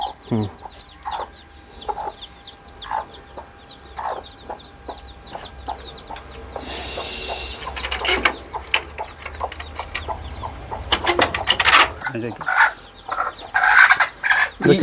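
Chickens in a home poultry farm cluck and squawk in a busy, overlapping flock, growing louder and more agitated toward the end, with some rustling and brief faint voices.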